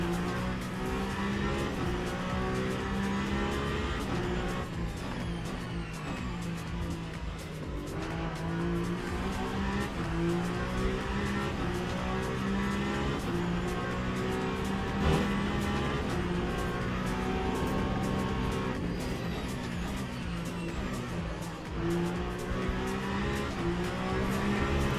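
A race car laps the Nordschleife in the Le Mans Ultimate racing game, its engine droning continuously and loudly with rising and falling revs through gear changes and occasional tire squeal, no voices heard.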